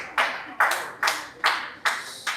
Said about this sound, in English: Can you clap for her? Let's clap for her.